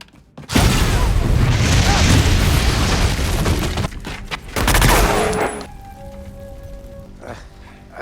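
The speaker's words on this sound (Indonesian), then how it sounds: "Parker langsung meledakkan patung tersebut hingga membuatnya terbakar habis" A bomb blows up a statue with a loud, sustained roaring blast and a second burst, then crackling debris and mechanical sounds trail off.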